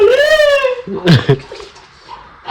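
A dog lets out a rising, wavering howl-whine up close, followed by a short yelp and a few softer whimpers.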